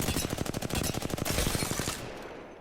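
Rapid automatic R-301 rifle fire from Apex Legends, a steady stream of close, loud shots that keeps up for about two seconds and then cuts off, leaving a fading tail.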